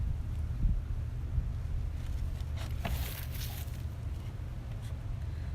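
Outdoor ambience at the University of Kentucky Arboretum in Lexington, a 100-acre green space of mature trees and plants: a steady low wind rumble with faint rustling and a brief soft swell midway, no voices.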